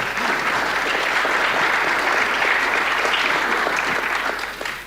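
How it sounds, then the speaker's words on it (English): An audience at a panel discussion applauds, dense steady clapping close and loud that fades slightly at the end, with no speech over it. "Round of applause for that, huh?"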